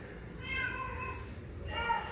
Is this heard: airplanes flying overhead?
no